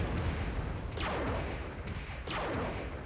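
Explosions in Mobile Suit Gundam: Battle Operation on PS3 go off as two deep booming blasts about a second apart, each with a rumbling tail, over constant loud battle noise.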